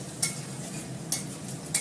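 Sliced onion and potato frying in a home kitchen pan make a steady soft sizzle, with a few brief stirring scrapes of a utensil against the pan spaced through the short stretch.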